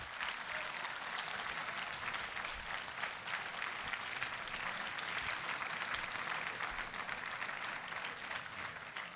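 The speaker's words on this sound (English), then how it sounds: "Let's give both tickets a round of applause." Sustained applause from the audience at a 2015 ASWSU student presidential debate, a steady dense wash of clapping from many hands filling the whole stretch without a break.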